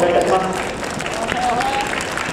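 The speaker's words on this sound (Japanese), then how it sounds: "皆様大きな拍手をお願いいたします" Audience applause at a horse racing award ceremony for the Dioraito Kinen at the racecourse, a steady crowd clapping throughout, with a voice talking over it.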